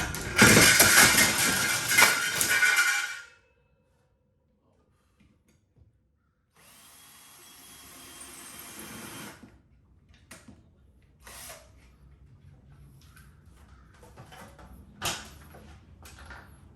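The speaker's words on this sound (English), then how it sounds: "I just drilled it" A power drill whines loudly into a garage wall for about three seconds, then stops; after a pause comes a quieter mechanical whirr, followed by scattered knocks and handling clicks nearby.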